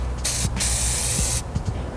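An aerosol spray can lays a coat onto a Yamaha Zuma scooter part in one loud, close hissing burst lasting just over a second, with a brief puff before it and quiet handling noise after.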